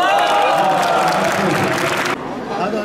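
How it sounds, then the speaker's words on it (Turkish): Applause and crowd noise at a youth and adult bocce national championship in Turkey, a burst of clapping mixed with chatter and loud talk that cuts off near the end. "Alkış."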